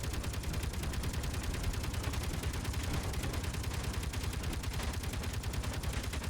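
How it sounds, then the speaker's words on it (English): Ship weapons in Space Engineers fire nonstop in a dense, rapid automatic clatter, steady and continuous throughout, like distant sustained gunfire with no pauses. "There's a lot still firing over on the other ship"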